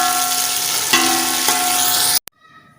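Chopped onions sizzle in about 150 grams of hot ghee, a steady close frying hiss with a few stirring bumps, cutting off abruptly near the end.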